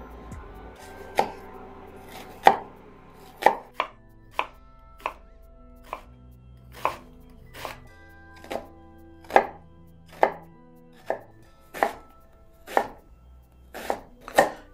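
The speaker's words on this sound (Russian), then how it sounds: "А морковь и лук нарезаем мелким кубиком." An onion being diced into small cubes with a knife on a board, heard as sharp, evenly paced chops close by, about one per second, with quiet pauses between them.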